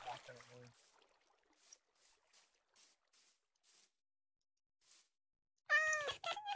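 A few short Minecraft cat meows at the start, then scattered soft steps and taps, ending in a loud, drawn-out meow with strong harmonics.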